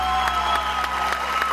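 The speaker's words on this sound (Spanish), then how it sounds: "si ese aplauso queremos que suba, tiene que ser más fuerte" A church audience gives brief, steady applause after a song, an even wash of clapping through the short moment.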